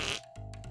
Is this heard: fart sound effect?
yes